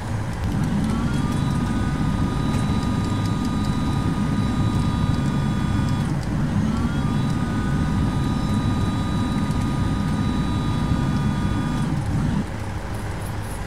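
Piper Duchess 76 twin-engine light aircraft in a flight simulator, a steady loud engine drone with a faint whine running throughout, its pitch shifting slightly around the middle and easing near the end.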